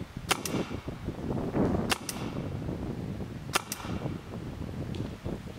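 A Tippmann TCR paintball gun fires paintballs outdoors. Three sharp, loud shots come several seconds apart, each followed by a quick second crack, over a steady background rumble.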